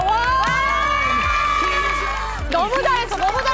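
A classroom of children cheer for their team after a school football match. They give a long, loud, sustained shout together, then a second burst of excited yells, close and overlapping.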